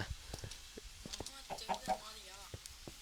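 A chicken in Minecraft clucks repeatedly in short, faint bursts, scattered irregularly among soft game sounds.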